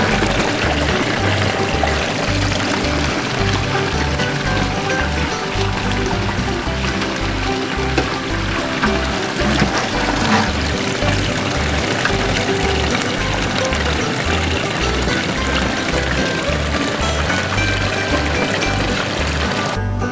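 Water rushes steadily through a home-built recirculating sluice box, a continuous loud pour and splash with a pump hum underneath and no voices.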